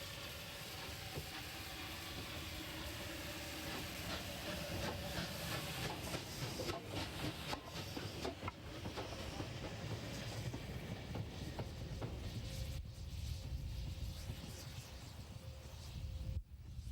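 West Country class steam locomotive City of Wells hauling the Pennine Limited, a heavy continuous rumble with steam hiss and rhythmic wheel clatter, moderately distant and steady throughout.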